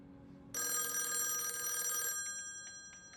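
A telephone bell rings loudly in one sustained metallic trill, then decays with a few quieter repeated rings in a quiet room.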